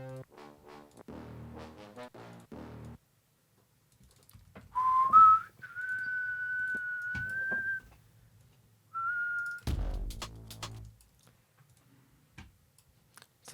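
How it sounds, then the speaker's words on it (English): A person whistles a few sustained, sliding notes alone, starting after a quiet stretch and returning briefly near the end, with some tapping, clicking and musical sounds around it. "Sometimes I whistle to myself to make it feel like I'm"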